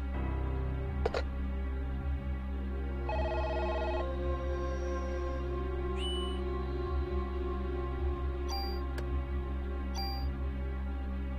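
A telephone rings in the 1998 Squaresoft PlayStation game Parasite Eve, its electronic bell tones sounding in short bursts over a steady, droning in-game background hum.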